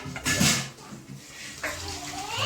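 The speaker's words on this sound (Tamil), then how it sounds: "தண்ணி ஊற்றிடுவோமா? லைட்டா தண்ணி தான்," Water is poured into a pot of chicken biryani, a short, close splash and gurgle that fades, then a second quieter pour.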